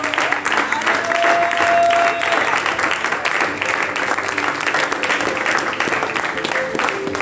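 Church congregation applauding and cheering in sustained, loud acclaim, a dense crowd roar with clapping throughout, voices mixed in.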